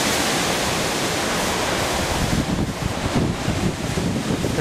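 Strong Hurricane Sandy wind roars steadily and loudly into the microphone, a dense broadband rush with gusty surges, heard alone without voices.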